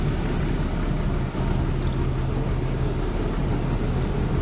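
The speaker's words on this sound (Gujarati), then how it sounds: "વિસાવદર જંક્શનમાં ટ્રેન એન્ટર થઈ ગઈ છે" A metre gauge passenger train rolls into Visavadar Junction, a small station, with a steady, loud rumble of wheels and carriages heard close from on board, continuous throughout with no talking.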